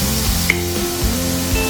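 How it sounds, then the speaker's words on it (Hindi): Soy sauce poured into a pan of spaghetti brings a loud, continuous sizzle with faint clinks and scrapes of stirring. "इसके साथ ही हम इसमें थोड़ी सी सोया सॉस जो है वो ऐड कर देंगे।"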